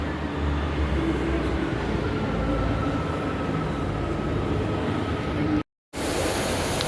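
A Northern CAF-built multiple-unit train passes through a station that is about to close, giving a steady, loud rumble of wheels and motors with a faint high whine, holding throughout before a brief dropout near the end.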